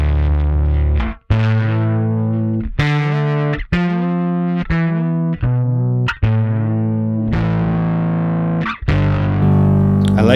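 Electric bass run through an expression-pedal-controlled effects chain, sounding a fundamental together with a fifth above, loud sustained distorted notes changing pitch in a stepped series, each note ringing before the next.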